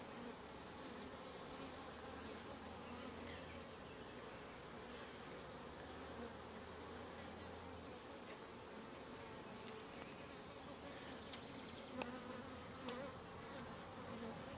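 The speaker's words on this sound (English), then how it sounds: "This is a full frame of bees." Honey bees crowd a full hive frame during a May inspection, producing a dense, continuous buzz that stays steady throughout. A few louder individual bees pass close now and then.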